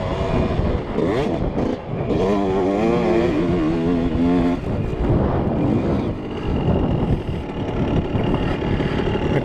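A Kawasaki KX motocross dirt bike engine revving and pulling through gears out on a free-riding trail, a loud, raspy two-stroke drone that rises and falls in pitch, with heavy wind buffeting throughout.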